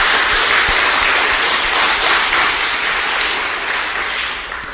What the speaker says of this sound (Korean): 다시 한번 이분들에게 감사합니다라는 격려의 박수 한번 더 주시면 좋겠습니다